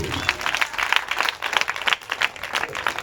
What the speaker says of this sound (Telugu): ఒకసారి చప్పట్లు కొట్టండి దేవునికి